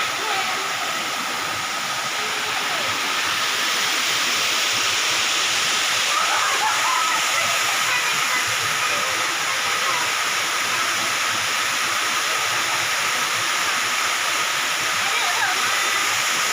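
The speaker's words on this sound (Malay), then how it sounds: "Ada air terjun." A waterfall at the Mon Ceunong bathing place in Indrapuri pours in a constant, dense broadband rush and hiss, steady and fairly close for the whole stretch, with no speech over it.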